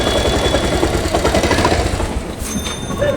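A Bajaj Pulsar motorcycle with a faulty CDI starts up and idles nearby, its engine running as a steady, close rumble from start to finish with a brief higher whine late on.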